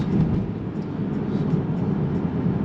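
A 480-horsepower BMW F30 335i accelerating hard in a pull after a U-turn, a steady loud engine drone with low rumble that holds constant throughout, heard from inside the car with no talk.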